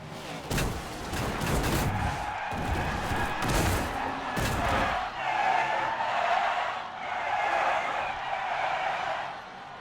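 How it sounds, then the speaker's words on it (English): In NASCAR 21: Ignition, tires screech and skid while several heavy crunching impacts hit in quick succession, then a rough roaring clatter trails on. "if you want to see what a huge crash is about to sound like and look like"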